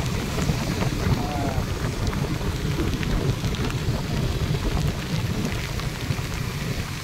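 Heavy rain pours steadily and loudly throughout a morning motorcycle ride, a dense continuous roar with no pauses.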